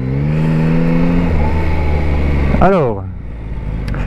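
A 2021 Yamaha Tracer 9 motorcycle engine idles loudly, then revs sharply in one quick burst and falls back. Someone speaks briefly over the engine noise.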